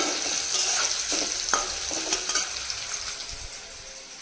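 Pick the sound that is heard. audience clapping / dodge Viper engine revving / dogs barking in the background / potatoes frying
potatoes frying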